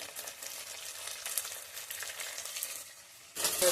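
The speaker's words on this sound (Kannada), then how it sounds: "ಫ್ರೈ ಆಗಿ ತೊಗರಿಕಾಳು 5 ನಿಮಿಷ ಫ್ರೈ ಆದರೆ ಸಾಕು" Pigeon peas fry in a pan for egg biryani, giving a faint, steady sizzle close by with a louder burst of hissing at the very end.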